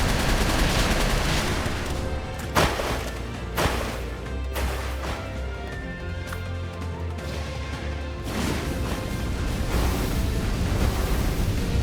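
Missiles fire in Palworld as a rapid volley of loud blasts and cracks over a dense rumbling roar, several sharp hits standing out, with no talking.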